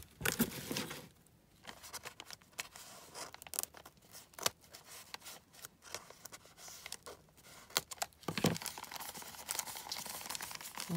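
Scissors snip and rustle through the paper and plastic of a mailed gift package, with crinkling, tearing and intermittent sharp cuts close by.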